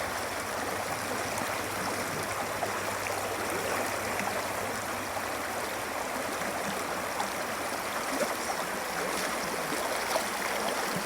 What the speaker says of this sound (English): That's where the water is tumbling over the rocks because there's a lot more oxygen there